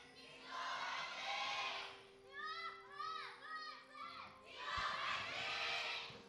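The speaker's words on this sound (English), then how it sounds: "as you guys can probably tell by the thunderous applause, the studio is entirely packed out" A packed esports studio crowd at a Korean LCK match roars and cheers in swelling waves, with a commentator's voice talking over the noise in the middle.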